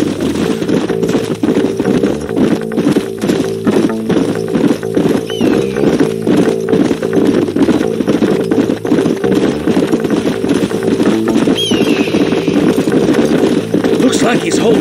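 Horse hooves clip-clopping at a steady riding pace in the video game Red Dead Redemption, loud and continuous, with a horse whinnying once or twice and people talking over it.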